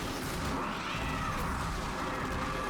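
Cats meowing in the sci-fi video game Warframe, a steady dense wash of in-game sound with meows blended into continuous background noise, no talk.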